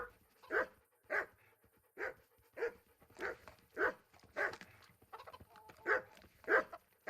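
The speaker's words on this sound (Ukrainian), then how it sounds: "Чого ти гавкаєш оце? Їж м'ясо." A dog in the Kingdom Come: Deliverance video game barks repeatedly in a steady rhythm, about a dozen sharp barks roughly every half second, fairly faint and alone.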